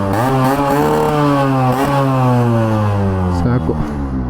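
Yamaha RXZ motorcycle after a complete rebuild, its two-stroke engine revving loud and close, pitch climbing and holding in a steady rising drone with a brief dip and blip near the end.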